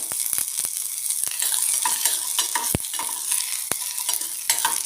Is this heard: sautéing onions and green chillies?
yes